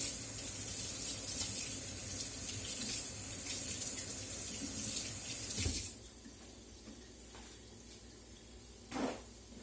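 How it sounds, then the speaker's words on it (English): Hands are rinsed under a running kitchen tap, a steady close water splash that stops abruptly partway through, followed by quieter sounds and one short splash near the end. "Let me rinse my hands first"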